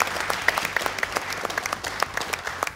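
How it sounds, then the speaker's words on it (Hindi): Audience applause welcoming Pakistani cricketer Fawad Alam onto a PSL 2025 show, a dense, steady patter of many hands clapping across the whole stretch, with background music running faintly underneath. "अपनी भरपूर तालियों में खुशामदीद कहिए फवाद आलम को।"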